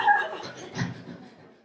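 A stand-up comedian imitates an overexcited dog with short whimpering yips and whines, two quick vocal bursts in close succession.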